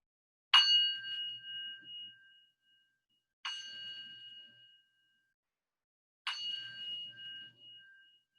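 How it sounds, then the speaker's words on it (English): Three small meditation bells struck one at a time, about three seconds apart, each a clear bright ding with a long ringing tone that slowly fades into quiet before the next strike. "I'm going to play 3 little bells."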